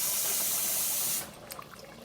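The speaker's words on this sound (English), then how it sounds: "you're rubbing the rice together with your hand" Rice being washed by hand in cold water in a kitchen sink, a steady broadband rush of running water that cuts off partway, followed by quieter sloshing and faint rubbing of grains.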